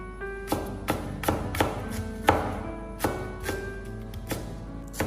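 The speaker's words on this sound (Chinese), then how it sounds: "再准备一小段的大葱，先把它切成细丝" A knife chops green onion on a board in about a dozen crisp, evenly spaced strokes, close and clear with no talking.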